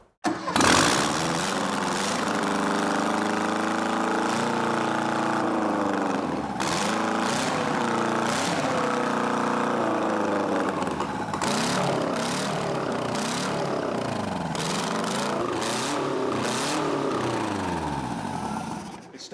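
An old Saab 96 engine starts almost instantly and runs with a rough, uneven rhythm, its pitch dipping and rising as it is revved a few times.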